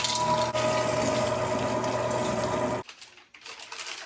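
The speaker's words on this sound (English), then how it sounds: "That pile of meat right there went through that grinder in probably like a minute" An electric meat grinder churns through deer meat with a loud, steady motorized whir that cuts off abruptly, leaving quiet room noise behind.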